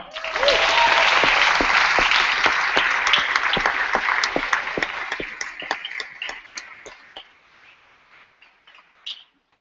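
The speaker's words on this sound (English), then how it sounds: "please give a round of applause for Stephanie Thompson and Sadhana Rai" Audience applause at the Australs 2014 Open Grand Final debating event, a loud burst of clapping that thins out over several seconds into scattered individual claps before a final clap and silence.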